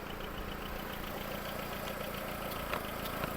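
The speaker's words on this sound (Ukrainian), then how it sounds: "робота двигуна." A Skoda Fabia engine idles steadily nearby, an even low rumble with faint rhythmic ticking and no talking.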